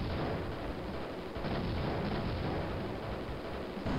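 Ships in the shooter game Raptor: Call of the Shadows pour out gunfire and missiles in a constant, dense barrage of rumbling blasts and bursts, with no pauses across the stretch.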